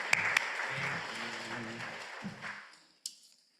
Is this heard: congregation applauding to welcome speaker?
yes